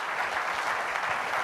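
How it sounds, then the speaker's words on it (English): Steady, dense applause from a live audience welcoming a volunteer onto the stage, a continuous even wash of many hands clapping with no voices over it. "Please give her a big round of applause as she joins me on stage."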